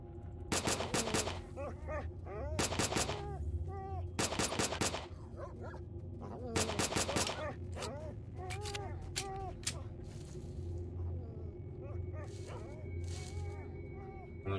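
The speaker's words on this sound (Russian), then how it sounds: "Это уже против меня пошла стрельба." Gunfire from the video game S.T.A.L.K.E.R.: Shadow of Chernobyl, with sharp bursts of automatic shots and single cracks repeating in clusters over steady ambient game noise, while someone talks throughout.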